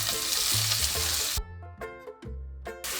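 Whole spices, including cinnamon, frying in hot oil for mutton curry, with a loud hissing sizzle that suddenly drops away between a few clanks of a spoon against the pan before the sizzle returns.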